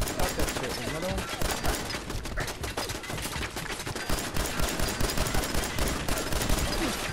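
Turret gunfire in the game Fallout, a dense, rapid, unbroken stream of shots that stays loud throughout, with other battle noise mixed in.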